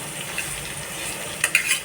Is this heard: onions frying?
yes